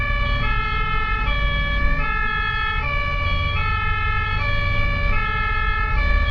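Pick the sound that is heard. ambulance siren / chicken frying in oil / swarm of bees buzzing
ambulance siren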